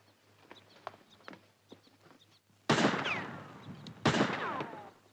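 Two loud gunshots crack from shooting practice in a 1952 film set in Malaya, each followed by a ringing decay. Faint bird calls and clucking fill the quiet before them.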